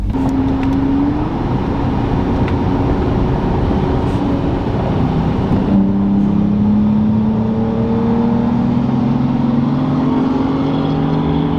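A car launching hard on a cheap set of Amazon tires, compared against Michelin Pilot Sport 4S tires, its engine note rising steadily in pitch as it accelerates.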